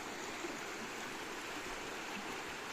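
A clear, cool stream flows steadily past a village in the morning, its even rushing wash loud and continuous with no talk over it.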